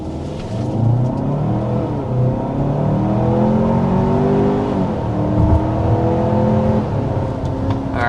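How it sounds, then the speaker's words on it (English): A 2026 Kia Sorento under hard acceleration to 60 mph, heard from the cabin as a strong engine drone rising in pitch through the gears, with short drops at each shift and a steady road whir underneath. "there's our acceleration to 60 miles an hour"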